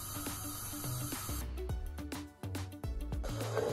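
Hot oil sizzling and spraying in a pan while fish paaka mixture cooks, a steady close hiss broken by sharp clatters of a utensil against the pan.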